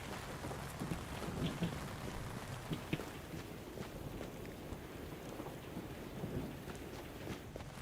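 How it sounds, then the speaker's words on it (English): Steady rain falls in a video game world, a soft continuous patter with faint distant rumbles, low and even, no voices present. "Ironically, it's raining."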